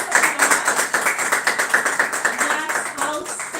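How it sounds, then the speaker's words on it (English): Students in a live classroom clap together in a quick, fairly even rhythm, the claps sounding close and bright throughout and continuing without a break. "please give yourself a huge round of applause"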